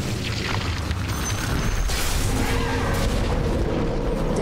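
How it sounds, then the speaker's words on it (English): Dense, continuous booming and rumbling explosions as a tower is destroyed in the Dota 2 video game, loud and sustained with layered crashes throughout. "Dire's middle tower has fallen."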